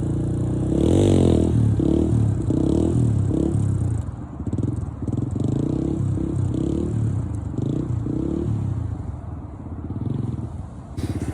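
Dirt bike engine held in a wheelie, a loud, steady motorcycle drone with rhythmic throttle pulses and some clattering throughout, no talking heard.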